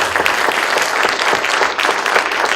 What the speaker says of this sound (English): probably deserves a round of applause for that